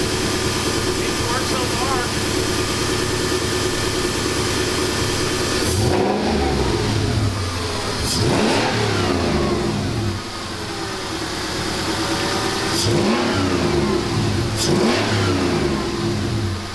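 Toyota 1UZ/2JZ V8 engine running after a throttle motor replacement, a steady mid-pitched hum with several quick throttle blips rising and falling in pitch, close and continuous throughout.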